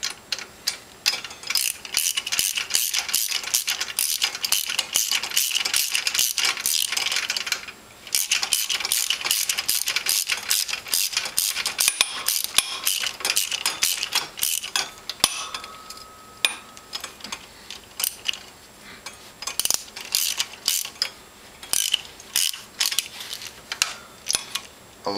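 A part is tightened by hand with a ratcheting tool while a lowrider bicycle is assembled, giving a long run of rapid, close clicking strokes that pause briefly and then continue in steady bursts.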